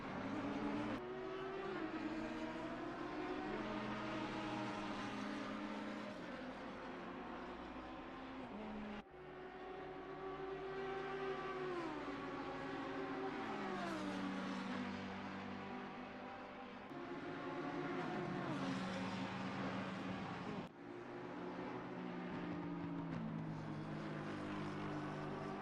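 A Ferrari race car in Assetto Corsa Competizione screams through the gears at Barcelona, its engine note rising and dropping across several shifts and braking zones as a steady, loud drone.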